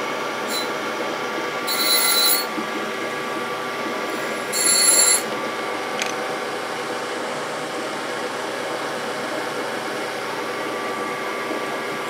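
A Brown & Sharpe grinder runs with a steady whining hum while its wheel is dressed, with two short, louder bursts of bright hissing scrape partway through and no talking.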